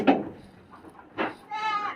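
Goats and sheep bleat in farm pens where the two are kept penned apart, with a few short calls heard close by; breeds kept there include Boer, Saanen and Sapera goats and Dorper and Awassi sheep.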